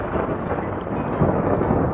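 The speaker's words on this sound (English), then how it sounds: "Thunder rolled loudly." Thunder used as a bedtime story sound effect rolls in a loud, continuous, low rumble with a dense noisy wash like rain, steady throughout with no voices.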